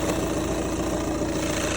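A VW Golf Mk6 2.0 TDI diesel engine idles while warming up, a steady, close, continuous rumble with light knocking texture and no voices.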